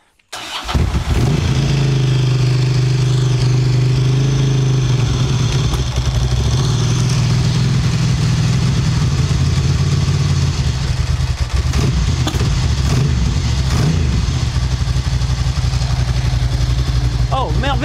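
A freshly rebuilt motorcycle engine cranks on choke, fires and settles into a loud, steady run with revving close to the mic, while a voice talks over it.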